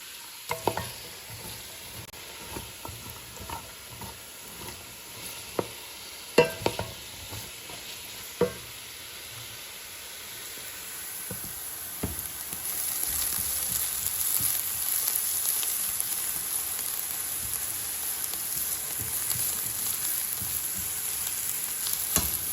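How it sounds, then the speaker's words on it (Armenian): Beetroot and carrot frying together in a pan, with intermittent clacks and scrapes of stirring over a soft sizzle that swells louder and steadier in the second half. "Բազուկն ու գազարը միասին ենք տապակելու։"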